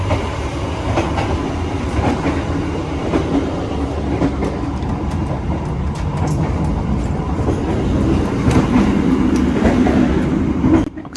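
Passenger train Bengawan rolls along rails with a continuous rumbling drone and faint rhythmic clatter of wheels, heard steadily from inside at moderate loudness for the whole stretch.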